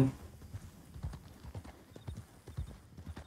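Quiet, rhythmic hoofbeats of a horse in the video game Red Dead Redemption 2 clip-clop steadily at a walking pace, soft and somewhat distant, with no talking.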